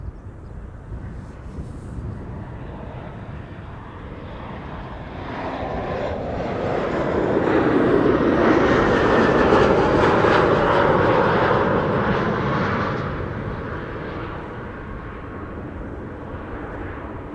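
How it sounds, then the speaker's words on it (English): A KLM Embraer 190 airliner arriving at Schiphol from Brussels swells from a distant rumble into a loud, close jet roar at its peak, then fades away again, with no voices over it. "KLM flight 1704, Embraer 190 arriving from Brussels"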